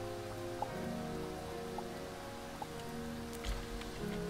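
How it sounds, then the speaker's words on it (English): Rain falling in the video game Starbound, a soft, steady patter heard faintly under a low in-game music drone. "Come on, stop raining"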